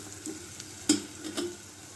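Chopped capsicum and cabbage are mixed into a pakora masala in a bowl, giving a few soft, quiet scrapes and taps, two of them sharper, against near silence with no talking.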